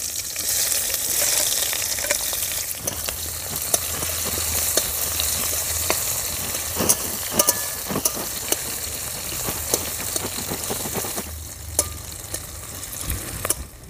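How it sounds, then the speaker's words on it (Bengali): Chopped onion fries in oil with dried chilli, bay leaf and cumin for a village-style duck egg curry. A steady, close sizzle runs throughout, with occasional scrapes and taps of a stirring spoon. "পেঁয়াজটা হালকা ভাজা হয়ে গেছে"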